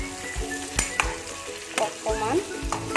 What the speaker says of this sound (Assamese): অকণমান ভাজি ল'ম